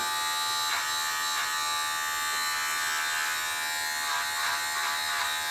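Electric hair clippers buzz steadily through a haircut, a constant close whine with a few faint shifts in tone as they move through the hair, and no talking.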